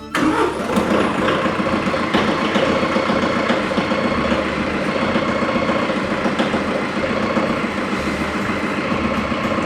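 A TYM 4820 tractor's diesel engine cranks and catches, then settles into a loud, steady idle close by, running continuously with no talking.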